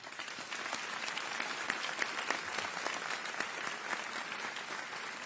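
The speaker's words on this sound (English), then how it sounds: "Could you please give a warm round of applause to all the families and those who supported our students." Steady, dense applause from a large graduation ceremony audience for families and supporters, a continuous even wash of clapping with no breaks.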